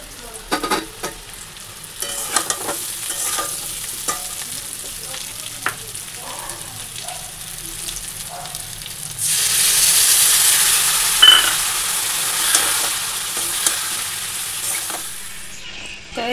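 Potatoes stir-fried with spices in a pan give a steady sizzle under scraping stirs, swelling into a louder, denser hiss of frying midway, with no talk.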